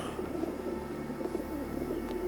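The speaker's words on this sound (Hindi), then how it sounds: "मैं नाकारा कबूतरों को दाना क्यों डाल रहा हूँ?" Pigeons cooing while being fed grain, soft repeated throaty coos in an uneven rhythm, close and fairly quiet, with no talking.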